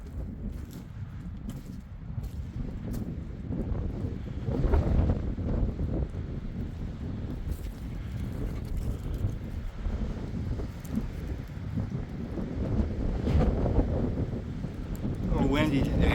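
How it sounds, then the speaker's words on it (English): Strong wind buffets the microphone in continuous low rumbling gusts, swelling and easing throughout, with faint voices underneath. "A little windy today."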